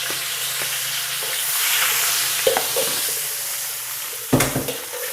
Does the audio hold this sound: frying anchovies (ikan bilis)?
yes